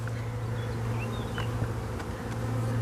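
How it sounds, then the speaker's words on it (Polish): Bees wander around a hive in a steady, close buzzing drone, with a few individual insects zipping past the microphone. "Tu się wałęsają jakieś pszczoły."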